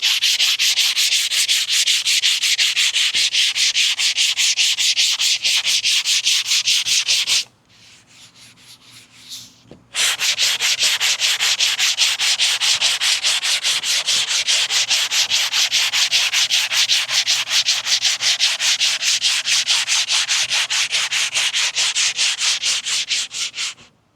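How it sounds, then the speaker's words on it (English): Rapid back-and-forth sanding of a cracked Chevy Caprice dashboard with coarse 80-grit sandpaper, loud and rhythmic, stopping briefly for a quieter scrape before resuming the steady strokes. "Finished up with all the sanding. I just did it to 80 grit."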